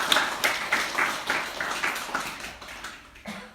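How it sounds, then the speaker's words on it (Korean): A church congregation applauds a visitor at a Sunday service, a dense run of claps with a steady, even pulse that fades near the end. "박수로 환영해 주시기 바랍니다"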